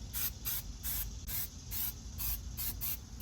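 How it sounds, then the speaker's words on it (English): Repeated short bursts of tire shine aerosol spray hiss onto a tire, about seven quick pumps in a steady rhythm, close and crisp, with no voices. "Again, spraying the outside circumference, and then we'll get the inside part."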